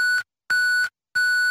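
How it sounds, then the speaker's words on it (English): Three identical electronic beeps, each a steady high tone lasting about a third of a second, separated by short silences, clear and close. "Leave a message after the beep."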